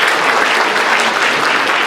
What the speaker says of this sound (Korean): 우리 함께 박수, 감사의 박수.